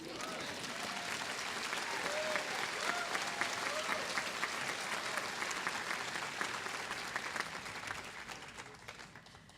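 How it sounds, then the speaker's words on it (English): A commencement audience breaks into sustained applause, a broad steady wash of many hands clapping that swells and then gradually tapers, with a voice briefly heard over it. "I think we need an applause."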